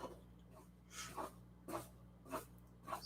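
A series of soft, breathy snorts and sniffs recurring roughly every half second to second, building toward a sneeze, close and quiet.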